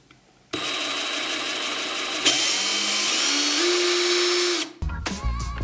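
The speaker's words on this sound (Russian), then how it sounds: "Кнопка в этом шуруповерте чувствительная," A cordless drywall screwdriver with a collated screw strip magazine runs in one steady, loud whine whose pitch climbs in steps as the sensitive trigger is pressed further, then cuts off sharply near the end.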